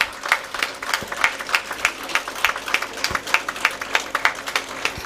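A nursing college graduation audience applauding steadily, many hands clapping in a dense, continuous patter with no voices over it.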